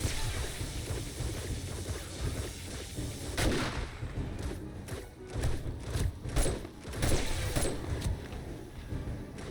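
Automated turret gunfire during a 7 Days to Die horde night, bursts of heavy booming shots cluster in the second half against a rumbling background, with no talk over them.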